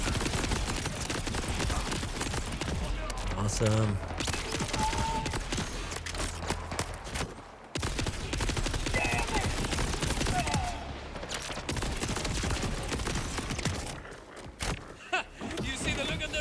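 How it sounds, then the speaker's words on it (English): Cannon fire in the video game Borderlands 4, played as the Exo Soldier Rafa: dense, continuous booming bursts layered over game music and effects, loud throughout with a couple of short gaps, and a voice briefly speaking. "we're gonna use the cannons because of this guy"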